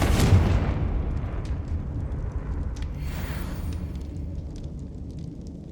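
A Confringo spell explodes in Hogwarts Legacy: a sharp blast at the start decays into a long rumbling tail, with scattered crackling bursts after it in quiet game ambience.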